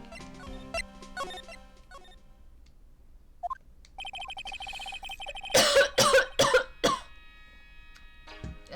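A cough effect from the video game Phoenix Wright: Ace Attorney – Justice for All. A quick cluster of about four coughs follows earlier electronic blips and a held chime tone, with no speech.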